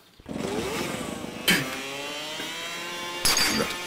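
A small moped engine in the video game Lakeview Cabin Collection buzzes with a steady, slightly rising whine, broken by two brief bursts of noise.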